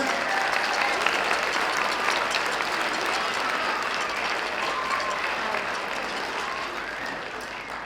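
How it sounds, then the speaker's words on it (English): Steady audience applause at an elementary school spring concert fills the whole stretch, a dense wash of many hands clapping at even loudness, with faint crowd murmur beneath. "how about another round of applause for the strings?"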